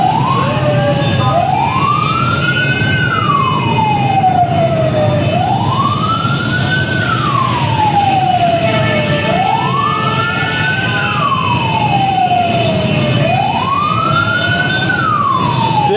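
Ambulance sirens wailing in repeated slow rising and falling sweeps, loud and steady over a road blocked with containers during a rally, with traffic rumble underneath and no talk.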